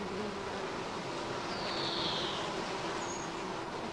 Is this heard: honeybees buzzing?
yes